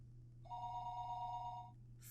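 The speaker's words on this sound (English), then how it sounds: "The phone rang noisily downstairs." A telephone rings downstairs, one clear electronic trill lasting over a second at moderate level, steady and alone against a low background hum.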